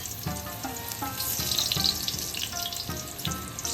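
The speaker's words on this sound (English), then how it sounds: "Once the oil is heated, saute 4 to 5 slices of ginger" Ginger slices sizzle and fry in hot oil in a wok, a steady crackling hiss with repeated scraping stir strokes falling in a loose rhythm, close and fairly loud.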